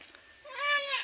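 A cat gives one short meow near the mic, rising and then falling, in a fairly quiet setting.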